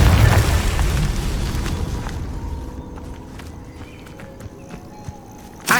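A Confringo spell explosion in Hogwarts Legacy bursts with a loud booming blast at the start, then decays into a fading rumble before a sharp thump at the end.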